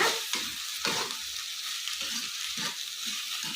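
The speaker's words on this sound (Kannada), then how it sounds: "ಈ ಎಣ್ಣೆಲ್ಲೇ ಫ್ರೈ ಮಾಡ್ಕೊಬೇಕು ಇದನ್ನ" Chopped cluster beans fry in hot oil in a pan, giving a continuous close hiss and sizzle with soft rhythmic stirring scrapes recurring every half second or so; no talking.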